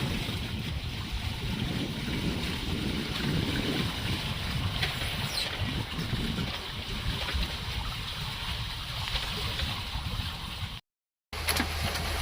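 Sailboat motor sailing on open sea with electric motors drawing about 1.5 kilowatts in light wind, giving a steady broadband rush of water and wind with low rumble, continuous and fairly loud throughout with a brief dropout near the end.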